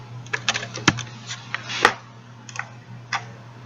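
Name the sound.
typing a password on a computer keyboard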